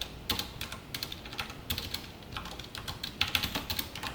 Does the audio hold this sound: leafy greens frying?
no